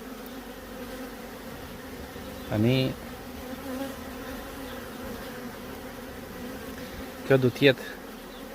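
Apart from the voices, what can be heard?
honeybee swarm buzzing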